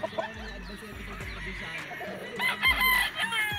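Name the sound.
sweater gamecock rooster crowing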